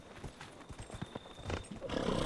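Horse hooves clip-clop in a steady run of soft, evenly spaced footfalls in Dragon Age: Inquisition, fairly faint and growing slightly busier toward the end.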